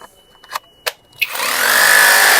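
A new cordless hammer drill is test-run: a few handling clicks and taps, then the motor kicks in and spins up to a loud, steady high-pitched whir that holds to the end, with no voices over it.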